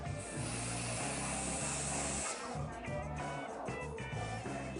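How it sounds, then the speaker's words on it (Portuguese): Hairspray hissing from an aerosol can onto styled hair during a hairdressing session, a steady close spray lasting about two seconds before cutting off, followed by quieter room sounds. "O correto de usar o spray, a gente tem que deixar 15 centímetros"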